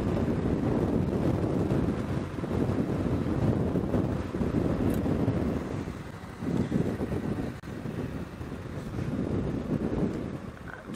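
Strong gusts on an airstrip batter the microphone in a heavy, rumbling roar that surges and dips unevenly throughout, with no talking.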